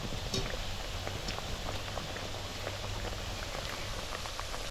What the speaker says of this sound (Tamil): நல்ல எண்ணெயும் கொதித்து கொண்டு போய் டக்காண்ட பொறிஞ்சு வரும்